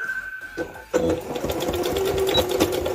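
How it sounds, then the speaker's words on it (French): A sewing machine runs steadily, stitching a fabric pouch about 1 cm from the edge, starting after a brief quiet moment and humming continuously with a rapid needle rhythm until the end. "Et là, on va coudre à 1 cm du bord."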